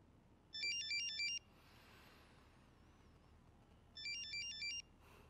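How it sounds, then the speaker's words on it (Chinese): A phone's electronic ringtone plays in two short melodic bursts with a pause between them, ringing unanswered over a quiet room. "怎么不接他电话？"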